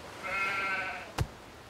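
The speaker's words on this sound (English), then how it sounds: "Sheep?" One sheep lets out a long, wavering bleat lasting nearly a second, close and clear against quiet background noise, followed shortly by a brief dull thump.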